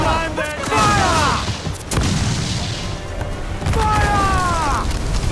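Repeated booming ship cannon fire in Assassin's Creed IV Black Flag, loud broadside blasts at sea with shouted voices and cries of command in between.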